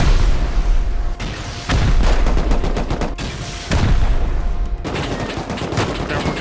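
Rocket launcher explosions pounding a turret base in the video game Rust, a loud continuous barrage of blasts and gunfire with heavy booms recurring every second or so.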